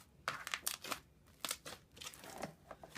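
Soft sticky clicking and crinkling of fluffy slime in scattered bursts, close and quiet, with small popping snaps between squeezes.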